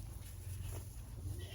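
Goats bleat at feeding time on a farm as a hay bale is opened, faint and muffled calls under a steady low rumble of background noise.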